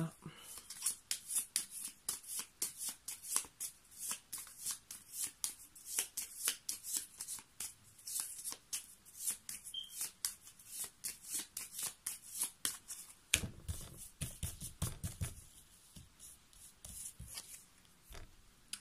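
Small cards being shuffled over and over, a steady run of quick papery riffles and flicks close by, with a heavier rustle near the end.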